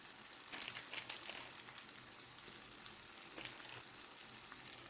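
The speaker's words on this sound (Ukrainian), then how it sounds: "Хай смажиться далі" Steady crackling sizzle of eggs frying in a skillet for shakshuka, close and continuous, with no talking.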